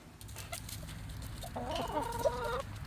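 Chickens cluck softly at close range, among them a one-eyed Russian Orlov hen, with scattered low clucks and a brief drawn-out vocal call in the middle, over quiet background noise.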